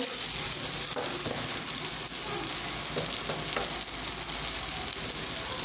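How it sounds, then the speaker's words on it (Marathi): Onion sizzles and fries steadily in a hot pan with popped mustard seeds, turmeric and red chilli powder, cooking for a spicy onion chutney; a continuous loud hiss with faint stirring clicks, no talk. "आता आपण कांदा टाकून घेऊ"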